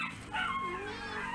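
On a cassava farm a dog lets out a quick run of faint, high yips and whimpery barks, thin and a bit distant, for just over a second.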